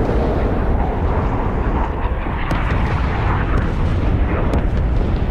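Missile explosions rumble through a naval battle video game as an Iranian gun and missile boat swarm attacks a US carrier group, a dense, continuous low roar of blasts with sharper cracks near the middle and end.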